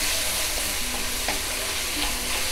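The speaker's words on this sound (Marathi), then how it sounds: "फक्त टोमॅटो जरासा आधी कांदा चांगला परतून घ्यायचा, मग टोमॅटो टाकायचा" Onions sautéing in a pan over a high flame for a masala, a steady dense sizzle that fills the clip at even loudness, with faint stirring scrapes and no voices.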